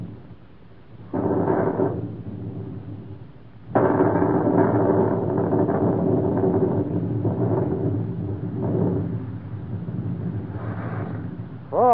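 Thunder rumbles in a retro radio drama storm, with low rolling swells that rise, hold for several seconds and fade, then come back, clear and fairly loud with no voices over them.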